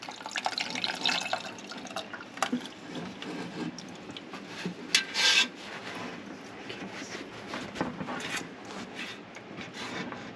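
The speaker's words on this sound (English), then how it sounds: "So we're going to dump our drippings in there." Chicken drippings from an air fryer are poured and scraped into a pan with a spatula, giving soft irregular wet scrapes, drips and rubbing at close range, fairly quiet with a few sharper scratches.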